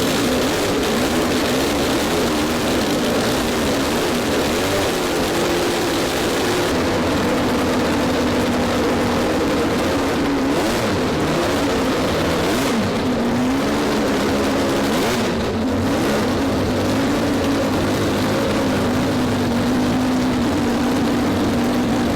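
A 12-rotor rotary car engine running on its first start, a loud, continuous, dense roar that stays close and steady for over twenty seconds with slight shifts in pitch, no talking.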